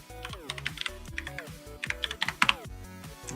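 Rapid, uneven clatter of keys on a computer keyboard during a coding session, close and fairly loud, with bursts of quick keystrokes and short pauses and no talking.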